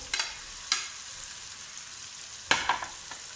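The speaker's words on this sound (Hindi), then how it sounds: "ये आलू इसमें डाल लेते हैं। अब ये बैंगन भी हम इसमें डाल लेंगे।" Potatoes and eggplant frying in a pan for an aloo baingan dish, a faint steady sizzle broken by a few sharp clatters of stirring.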